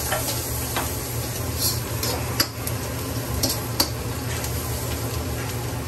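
Garlic sautés in a pan, giving a steady close sizzle with occasional sharp ticks and stirring scrapes, and no talking over it.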